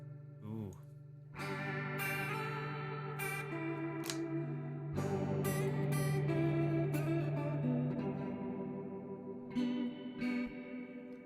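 A USA-made Telecaster electric guitar, from around 2002, rings out chords and single notes through a big reverb effect, with notes sustaining and blurring together at a moderate level.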